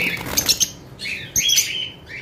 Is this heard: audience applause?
no